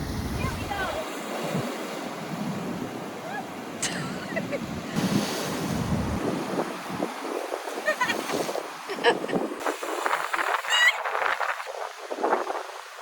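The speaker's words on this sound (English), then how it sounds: "And this is Blowhole." Sea waves surge and crash at a coastal blowhole in the Cayman Islands, a steady roar of surf with wind buffeting the microphone and a couple of louder splashing bursts.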